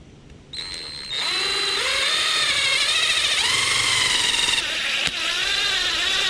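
Loud whining power drill spinning up and running steadily, its pitch dipping and rising under load as it drives a tapping screw while fitting a subcage to a 2017-2019 Honda Grom, close by.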